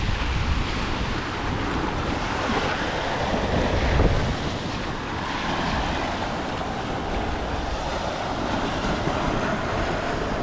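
Ocean waves breaking on a barrier island beach, a continuous broadband roar of surf with a slight swell around the middle, steady and fairly loud, no talking.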